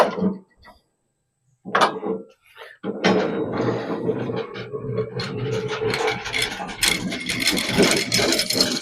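Hydraulics on a Frontier OS35 sawmill clank and ratchet, with mechanical clicks and gear-like rattles building into a busy, continuous whir after a few quiet pauses.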